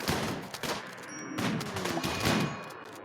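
Colonists in a video game firing guns at a Thrumbo, with several loud overlapping bursts of shots and thumps following one another across the whole stretch, dense and continuous.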